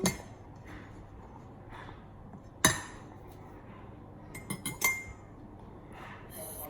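A spoon stirring slime ingredients in a bowl, with scattered clinks and scrapes against the container, one sharp knock and a quick cluster of taps near the end, fairly quiet.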